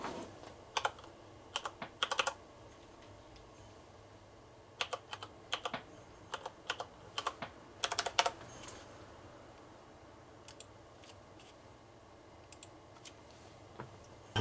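A password is typed into a computer keyboard to join a Netgear Nighthawk AC4000 router's Wi-Fi. Quiet close key clicks come in short irregular bursts separated by pauses, with no talk.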